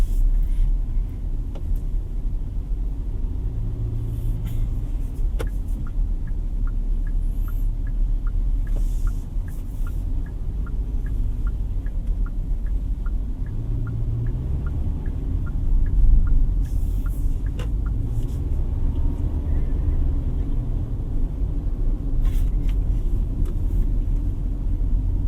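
Steady low road rumble and tyre noise inside the cabin of a 2024 Kia Sonet 1.5 SX while driving, continuous and moderately loud with a faint regular ticking, no voices.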